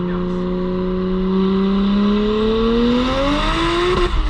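A BMW 335i with a single-turbo N54 engine revs hard and climbs steadily in pitch under sustained throttle, loud and close, with a shift or lift right at the end.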